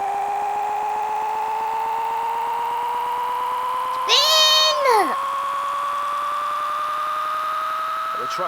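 A cat meows once, loud and drawn out, over a steady rising mechanical whine of a truck spinning its wheels that runs throughout.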